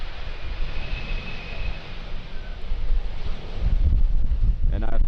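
An airliner approaches runway 18R at Schiphol for a crosswind landing during Storm Gerrit, a low engine rumble growing louder and nearer under heavy gusting wind noise on the microphone.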